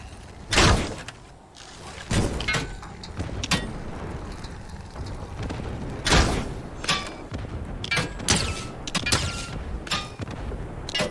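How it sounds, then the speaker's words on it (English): Explosions in the Fortnite video game near a gas station, a series of sharp booming impacts and thuds spaced irregularly across the stretch, loud and close with lingering rumble between blasts. "Explosion."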